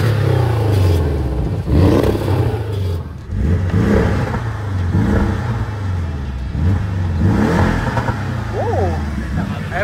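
A Porsche Cayman 718 GTS engine revs repeatedly in rising and falling bursts outdoors in wind, loud and close, with people talking and exclaiming over it.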